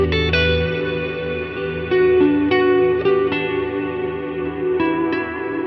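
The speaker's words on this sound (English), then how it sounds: "I love this reverb." Tonal notes ring out through the Valhalla Room 2.0 reverb plugin, each struck note blooming into a long, lush, smooth tail that sustains and overlaps with the next in a spacious wash, with no voice present.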